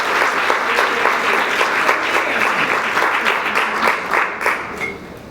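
Loud, full applause from diners at a fundraiser dinner supporting Ukraine, many hands clapping steadily for about five seconds and then tapering off at the end.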